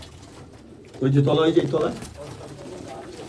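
Abluk pigeons coo in a short, close, throaty burst in a home loft, with someone talking over them.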